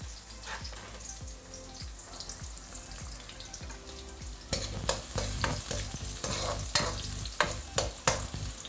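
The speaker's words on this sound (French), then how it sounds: "Je mets mon oignon roussi." Browned onion fries in a pot with a steady sizzle while a utensil scrapes and stirs in repeated knocks, getting louder and busier toward the end.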